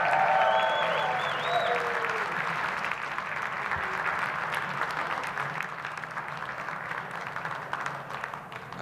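Sustained audience applause fills a concert hall at a string music event at the Scranton Cultural Center, a dense wash of clapping that stays steady and slowly thins out over about nine seconds.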